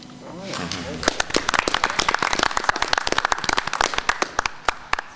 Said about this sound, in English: I think the clerk's office definitely deserves a round of applause.